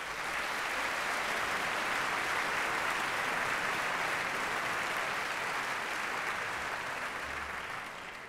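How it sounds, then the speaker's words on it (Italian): An audience applauds the conductor Lorin Maazel and the orchestra after Beethoven's Ninth Symphony, with dense, steady clapping at an even level that tapers slightly at the end, and no voices. "un applauso per il maestro e per l'orchestra"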